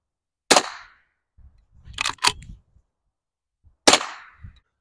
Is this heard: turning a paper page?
no